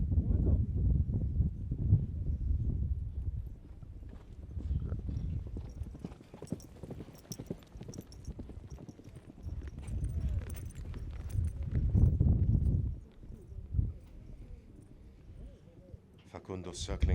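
Polo ponies galloping and cantering across a field during a British Open match, hooves drumming in a steady clip-clop rhythm close by, with a commentator talking over them and some wind noise.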